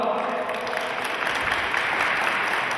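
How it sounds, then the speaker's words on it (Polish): Dense, even applause from a crowd gathered at the official opening of a 2015 Great Orchestra of Christmas Charity event in Duczki, Poland, continuing steadily throughout. "Wielkie brawa."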